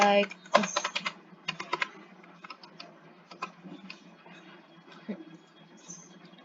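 Quick, irregular bursts of clicking keys on a computer keyboard as a password is typed while setting up a free Minecraft server, close and fairly quiet with short pauses between runs of strokes.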